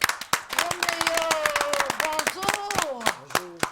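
Audience applause for a singer on a live French-language TV broadcast, a steady patter of many clapping hands with a voice talking over it throughout.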